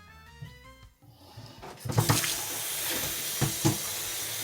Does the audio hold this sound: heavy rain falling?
no